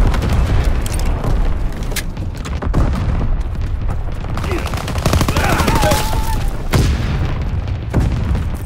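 Anti-aircraft fire and explosions rage in the Call of Duty WWII video game: a loud, continuous barrage of flak bursts, rattling gunfire and heavy booms, with sharp blasts punctuating the din throughout.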